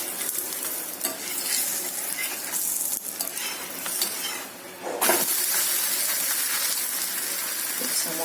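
Gluten-free masala jowar roti fries in oil on a pan, giving a steady close sizzle and hiss with brief scraping and stirring noises as the flatbread is flipped.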